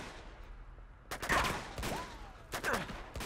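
Gunfire in Uncharted 2 (a video game) comes in two bursts of sharp shots, each with a short echoing tail, separated by a quieter stretch. A voice or a sliding tone sits briefly between them.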